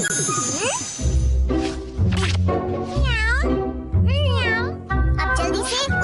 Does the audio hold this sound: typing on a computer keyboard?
no